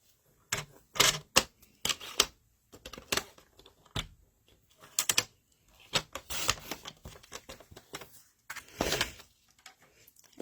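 Paper trimmer blade cutting card for a bay window fold card, with sharp close clicks and short slicing bursts separated by quiet gaps.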